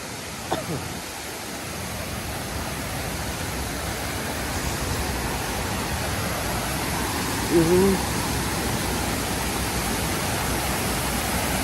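Poolampara Waterfall in Kerala roars with a steady, unbroken rush of water, with a faint brief voice partway through.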